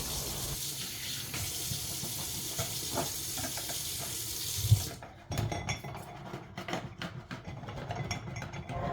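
Water runs steadily from a sink tap while a glass rack is washed, then the tap shuts off after about five seconds, leaving clinks and knocks of the rack being handled close by, with no talking.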